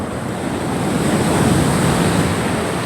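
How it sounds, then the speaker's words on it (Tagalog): Large ocean waves break at a beach in a continuous loud, close wash of surf, with wind rushing over the microphone. "Laki ng alon"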